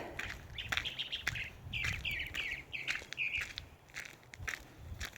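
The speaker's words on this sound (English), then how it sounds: "did you hear that bird?" Outdoor birdsong: a bird gives repeated chirping calls in a quick series, moderately close, over light rustling and crunching on a walk to a graveyard.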